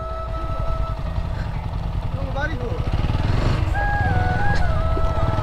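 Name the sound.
motorcycle engine while riding a bike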